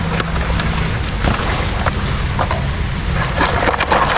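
Steady rain falls outdoors beside a river, a dense continuous wash of patter with a low rumble underneath, fairly loud and close, with no talking.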